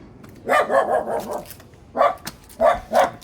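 A dog barks repeatedly, first in a rapid series and then in a few separate barks, fairly close and clear, with no talking over it.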